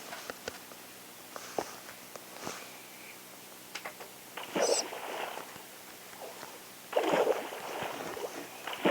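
Water placed in Minecraft rushes and splashes in two broadband bursts, one short and one longer toward the end, over faint ticking and clicking game sounds.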